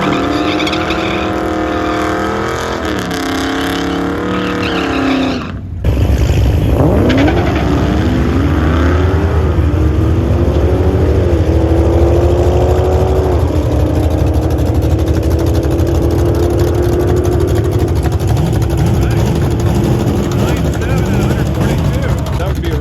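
A Dodge Demon 170 at the drag strip at night: a loud engine drone with a brief cut, then a hard launch whose pitch climbs steadily as the car pulls away, staying strong and close throughout.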